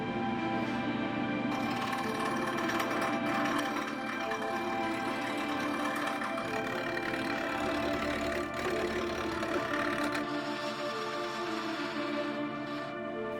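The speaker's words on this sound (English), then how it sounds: "You're buying a machine that's designed to pull nasty air out of a space and actually clean it." An AlorAir air scrubber runs with a steady, loud mechanical drone and whirring hum, constant throughout with slight fluctuations in tone.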